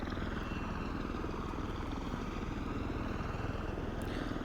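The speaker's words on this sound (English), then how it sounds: "This is one of the cool things about the Osprey, is that it hovers" A V-22 Osprey tiltrotor aircraft hovers and yaws in place, its rotors producing a loud, steady, close drone that holds unbroken throughout.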